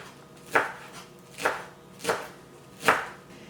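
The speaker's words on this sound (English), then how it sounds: "I'm just going to chop this up" Four crisp knife chops through a handful of arugula on a cutting board, spaced unevenly about a second apart, close and clear with no talk.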